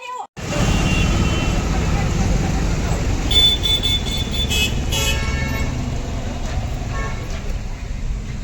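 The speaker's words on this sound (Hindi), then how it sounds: "अरे गाड़ी आ रही है वो।" A vehicle rolls along a busy road amid steady traffic rumble, with several short horn toots breaking through midway, loud and close, and a voice speaks briefly at the start.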